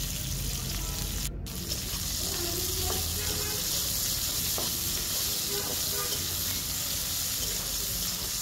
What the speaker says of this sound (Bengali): পেঁয়াজ আর মরিচ ভালোভাবে হালকা করে ভেজে নিব